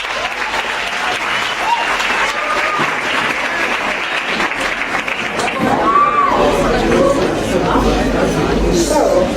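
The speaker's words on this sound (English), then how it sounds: "please join me in thanking South Sea through a big round of applause" A school audience breaks into a big round of applause at a book handover event, loud sustained clapping with some cheering and crowd chatter, swelling louder toward the end.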